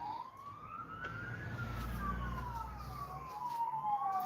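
Police sirens wail from a distance, a rising and falling tone drifting over low traffic rumble across the whole stretch, with no talking.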